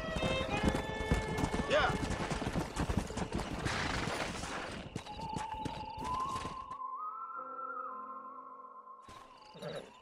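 Rapid hoof clip-clop of a stallion in the Wild West game Red Dead Redemption, close and rhythmic over the first several seconds, with a neigh and game music tones following; a voice speaks briefly.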